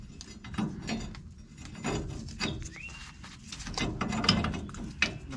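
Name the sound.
ratchet torquing nuts on Chevy K1500 helper spring bracket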